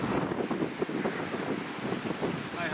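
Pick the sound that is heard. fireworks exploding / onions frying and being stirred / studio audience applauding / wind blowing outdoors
wind blowing outdoors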